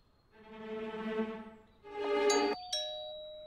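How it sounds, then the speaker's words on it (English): Two-tone electronic doorbell chime rings clearly, a sustained ding-dong followed by a second brighter chime and a short ringing tail, with no voices present; heard in an animated Barbie Dreamhouse setting. "I'll ring the bell and distract them."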